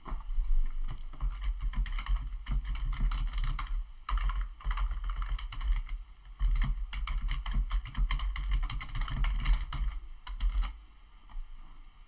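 Fast, close typing on a computer keyboard, with dense clattering keystrokes continuing through most of the stretch and only brief pauses.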